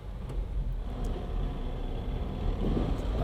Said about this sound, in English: So roll onto the throttle.